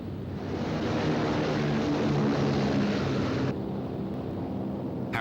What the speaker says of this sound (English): Royal Air Force planes loaded with high explosive and incendiary bombs took off for